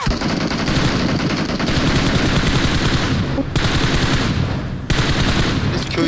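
Sustained automatic gunfire from a video game, loud and nearly continuous in long bursts with two short breaks, no talk over it.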